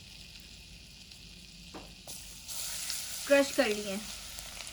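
Crushed garlic dropped into melted butter in a pan, bursting into a close, crackling sizzle that swells and continues steadily, with a voice speaking briefly over it.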